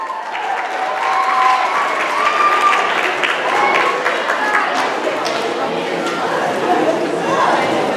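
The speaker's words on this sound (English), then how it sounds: "by a sound of your hands coming together in rhythm, how is act one?" An audience at a 2016 Lyndhurst Starquest talent show applauds after the first act: dense, sustained clapping from a large crowd that fills the room steadily, with chatter mixed in.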